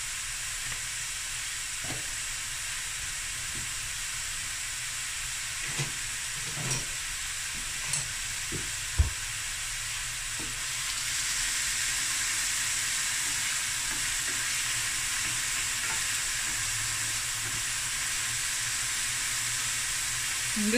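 Whole spices, a piece of cinnamon stick and a cardamom pod, fry in a pan with a steady sizzle and occasional small pops and stirring clicks, close and continuous, no talk.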